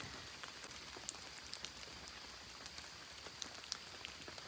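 Steady rain patters on a surface, a soft continuous hiss with scattered individual drops ticking, fairly quiet and without voices.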